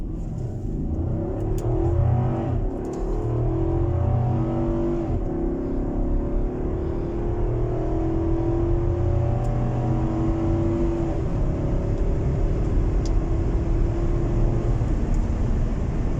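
The 5.8 liter V8 of an Infiniti QX80 Limited AWD growls as it accelerates, a deep steady engine drone with rising harmonics that holds strong and close for the whole stretch.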